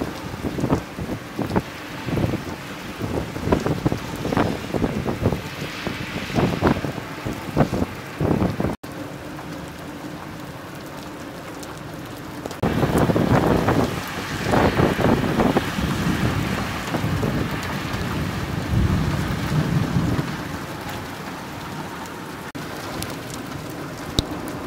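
Heavy rain pours steadily during a strong thunderstorm in Jelgava, Latvia, drumming on surfaces with wind buffeting the microphone; dense bursts of downpour swell and ease, with no clear thunderclap standing out.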